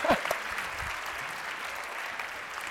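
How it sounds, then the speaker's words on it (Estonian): Big round of applause from a hall audience at an entrepreneurship session in Pärnu, steady massed clapping after a brief louder burst at the start, with faint voices underneath. "Ja nüüd ülisuur aplaus kõigile!"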